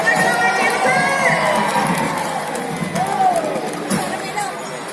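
A crowd of children cheers and shouts at the opening ceremony of the Danone Nations Cup football tournament in Aceh, a dense, continuous roar of young voices with scattered higher yells.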